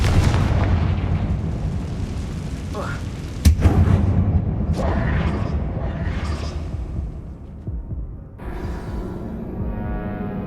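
Fire-blasting Confringo spell explosions in the video game Hogwarts Legacy, several booming blasts and bursts over a dense, loud game soundtrack.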